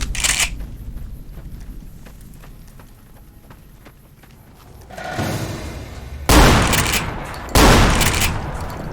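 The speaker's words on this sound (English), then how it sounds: "As it turns out, shotguns are plenty effective for this purpose." Shotgun blasts in Fallout New Vegas, two loud close bursts near the end after quieter shuffling game ambience, with a softer shot or impact just before them.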